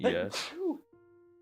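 A person sneezes once, sharp and close, in a live day-trading stream, with someone speaking right before it and a short quiet tone afterward.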